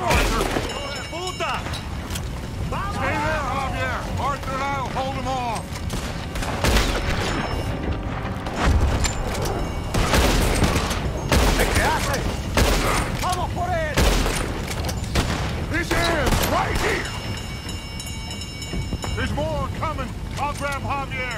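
Gunfire in a Red Dead Redemption 2 shootout: repeated loud rifle and pistol cracks in irregular bursts across the whole stretch, mixed with shouting and talking voices and music in the background.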